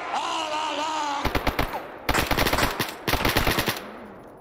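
Automatic gunfire in STALKER Anomaly rips out in three rapid bursts, loud and close, after a brief stretch of droning tones.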